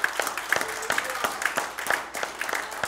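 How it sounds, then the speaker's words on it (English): A church congregation at a Sunday morning service claps hands together, with distinct, fairly regular claps in a loose rhythm over a bed of scattered applause, close and moderately loud, with faint voices underneath. "Give the Lord a hand clap this morning."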